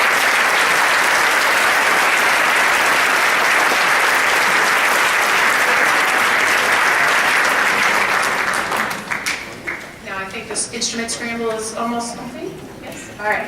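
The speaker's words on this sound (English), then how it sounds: "Let's give them a round of applause." Sustained, dense audience applause fills a winter school band concert hall, thanking parent volunteers, then thins out around the nine-second mark as a voice begins speaking over the last scattered claps.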